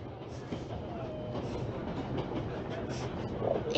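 A train rolls along rails in the video game 11-11 Memories Retold, a steady low rumble with soft rhythmic clatter of wagons, moderately quiet, with a faint voice and muffled sounds over it.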